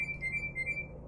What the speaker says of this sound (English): I don't know if I'm going to be able to edit out all of this beeping